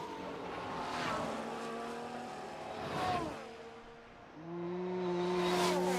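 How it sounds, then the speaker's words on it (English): Formula 1 race cars in the F1 Manager 22 video game roar past one after another during the Canadian Grand Prix, engine tones sweeping up and down, then a sustained whine builds near the end, moderately loud. "I wonder will those two Haas cars make it?"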